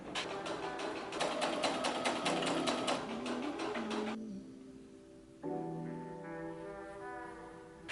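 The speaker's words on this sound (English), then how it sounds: "Okay, I'm gonna get sewing." A sewing machine stitches a halter top with a fast, steady mechanical whir for about four seconds, then gives way to quieter tonal sounds.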